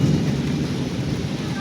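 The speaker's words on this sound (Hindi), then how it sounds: "बादल गरजने लग गए धड़ाधड़" A thunderstorm rolls in: a deep, continuous rumble of thunder with rain falling steadily underneath, loud and close.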